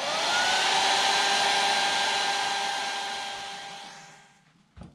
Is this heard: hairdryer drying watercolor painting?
yes